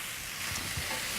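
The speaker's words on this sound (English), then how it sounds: "So it's sizzling away. That sound is just really lovely as well." A Thai green curry stir-fry for rice sizzles steadily in a hot pan, a close, continuous frying hiss with a few soft bumps and no talking.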